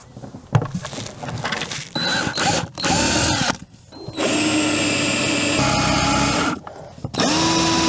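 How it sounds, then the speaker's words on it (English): A power drill whines in several bursts while drilling holes in a boat's teak deck, revving up and cutting off, with short pauses and handling noise between runs. "I still need to drill the ones that go through down into the cabin"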